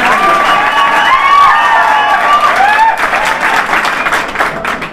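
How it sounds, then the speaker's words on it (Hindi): Loud crowd applause mixed with shouts and cheers at a school opening ceremony in Haryana, steady and dense throughout, with excited voices ringing over the clapping. "तो एक बार जोरदार ताली"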